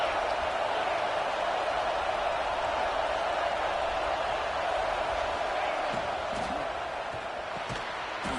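Stadium crowd noise fills a college football video game broadcast, a steady, distant wash of cheering and roaring that holds at an even level throughout, with no clear voices.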